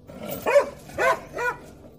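A very large dog in a storytelling sound effect barks three times in quick succession, each bark loud and close with a whining, tonal edge, over a quiet background.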